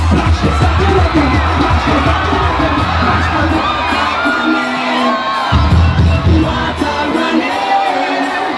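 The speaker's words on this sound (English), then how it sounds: "right now we're live at Baltimore Carnival" A lively crowd cheers, whoops and shouts, with children's voices mixed in, at the Baltimore Carnival outdoor festival; the dense, steady roar is continuous and close throughout.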